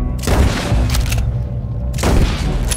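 Heavy gunfire erupts during a chaotic Wild West shootout in a game: two dense bursts of loud, booming revolver and rifle shots sound close up, with a short lull between them.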